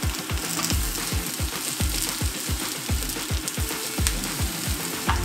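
Onion, garlic and ginger fry hard in hot oil, a dense, close crackling sizzle with rapid popping bursts running continuously without any voices.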